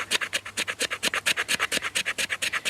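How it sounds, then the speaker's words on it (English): The back of a knife blade scrapes rhythmically across resinous pine fatwood, around eight rasping strokes per second, close and steady with no voices. "when it actually comes to scraping fatwood down"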